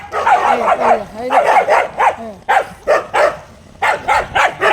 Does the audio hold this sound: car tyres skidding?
no